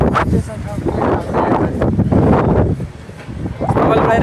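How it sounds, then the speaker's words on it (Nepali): Strong wind buffeting the microphone at an exposed windy spot, loud rumbling gusts that rise and fall, with a person talking over the noise. "यस्तो बब्बाल हावा लाग्छ यो ठाउँमा होइन।"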